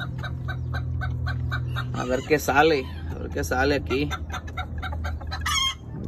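Rooster, a stud cockerel kept with hens, clucking and giving a loud crow near the microphone, with someone speaking over part of it.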